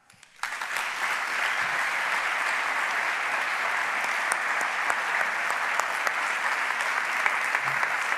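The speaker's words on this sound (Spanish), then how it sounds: "le demos un fuerte aplauso de bienvenida a Javier" Warm welcoming applause from an audience at a public science talk, rising quickly into a dense, steady roar of many hands that holds evenly for several seconds.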